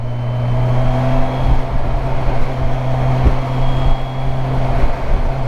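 A Kawasaki Versys 1000 motorcycle engine pulling hard under acceleration, with a loud, continuous droning roar and a steady tone, heard close from the rider's position with wind noise mixed in.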